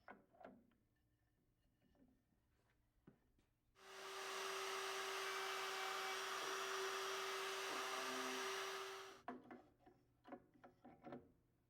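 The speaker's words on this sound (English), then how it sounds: "To make the rabbet in the legs, we use the multi-router again." A multi-router cuts a rabbet in mahogany piano bench legs, a loud steady high whine for several seconds, with quieter clicks and knocks of handling before and after.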